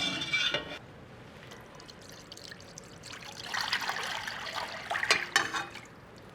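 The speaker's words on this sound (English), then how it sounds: "And now we pour over that our brine." Brine poured over a lean brisket from the breast of the cow, a steady liquid trickle and splash that swells louder toward the end, with no talk.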